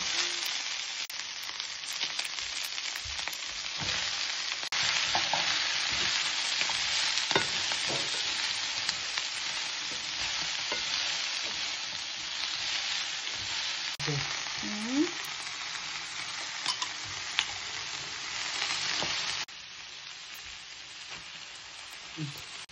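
Meat being sautéed in a pan for ginisa, with a steady loud sizzle and crackle running throughout. Occasional stirring clinks and scrapes sit close by, and there is no talk.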